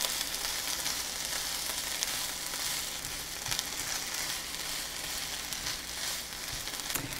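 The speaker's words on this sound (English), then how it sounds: "now that I've sauteed the peppers, onion, and the kale" Peppers, onion and kale sautéing in a pan for a roasted corn quinoa salad, a soft even sizzle with a few faint stirring taps, fairly quiet and steady.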